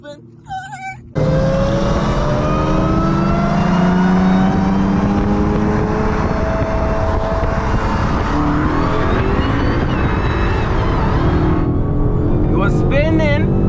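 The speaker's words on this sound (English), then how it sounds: "Ready for my wheel spin?" A tuned Dodge SRT Hellcat launches in a drag race against a BMW M4, its engine roaring loud and sustained as the wheels spin, with a voice briefly heard at the start and end.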